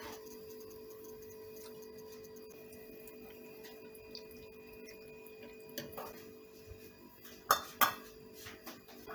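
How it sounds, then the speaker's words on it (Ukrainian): Glass jars of cucumber and tomato salad being covered with lids, a quiet steady hum giving way to light clinks and a couple of sharp glassy clatters near the end. "Банки накриваємо кришками і стерилізуємо в каструлі 15 хвилин."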